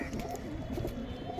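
A caged female Kalanka pigeon coos softly in a short, low murmuring call, faint and close with no voices.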